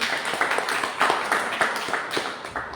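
Hearty audience applause at a church youth talk show, many hands clapping in a lively uneven patter with distinct louder claps popping out, moderately close and continuous.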